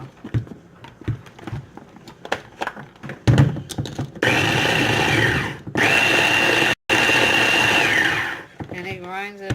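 A kitchen grinder chops ingredients for salmon croquettes. Clicks and handling knocks come first, then two loud, steady whirring bursts split by a brief stop, and a short rattle at the end.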